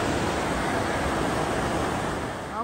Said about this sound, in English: That's the river we've been walking beside of most of the day.